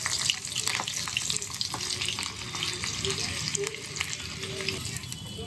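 Green chillies frying and spluttering in a hot pan, a dense continuous sizzle with scattered sharp pops and crackles throughout, close and fairly loud, a faint voice now and then beneath.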